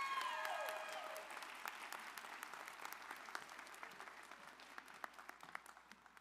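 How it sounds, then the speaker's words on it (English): Audience at a fall college graduation ceremony applauding, a dense wash of clapping that starts loud and gradually thins and fades over several seconds, with scattered individual claps toward the end. "Can you please give our commencement speaker a round of applause one more time?"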